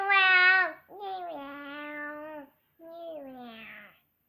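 A young child imitates a cat's meow in three drawn-out, rising-and-falling vocal cries, close and clear with short pauses between them.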